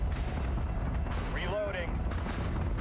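Flak cannon fire from capital ships in the space combat game Battlestar Galactica: Deadlock, a dense continuous rumble of booming bursts with a brief whistling sweep in the middle, loud and steady throughout.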